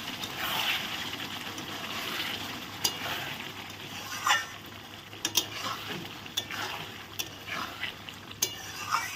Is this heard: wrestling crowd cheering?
no